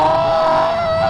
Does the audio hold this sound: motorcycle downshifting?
yes